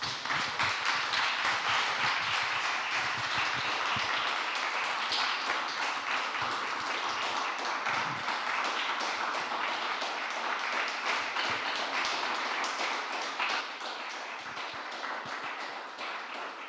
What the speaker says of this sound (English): the strength of that applause is testament to a really powerful contribution